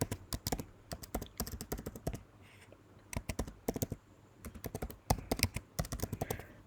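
A computer keyboard clicks in quick, close bursts as a project name is typed, with short pauses between runs of keystrokes.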